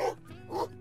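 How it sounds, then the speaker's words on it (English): A dog in a hide-and-seek video game gives two close, gruff barks about half a second apart, with no speech. "what are you barking at?"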